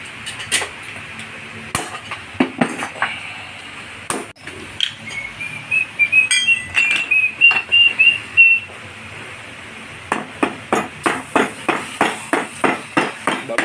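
Sharp rubber mallet taps strike a new pulley assembly on a Honda City repeatedly in uneven bursts, then a quick regular series of knocks near the end, with a faint whistling tone in between.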